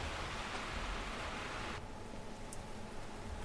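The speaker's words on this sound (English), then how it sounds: "the rain just sounds normal" Steady, dense rain in the train simulator game Derail Valley hisses evenly throughout, with no voices, its brighter top end dropping away slightly halfway through.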